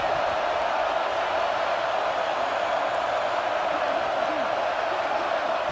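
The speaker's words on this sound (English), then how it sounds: "Listen to the crowd energy here in the early going." Large stadium crowd at a football game roaring in a steady, broad wash of cheering noise that fills the whole stretch, loud and continuous without clear breaks.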